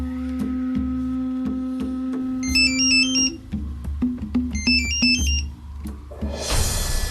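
A phone rings with an incoming call, a repeating electronic ringtone in two bursts over a steady hum in an indoor scene, followed by a rush of noise at the end.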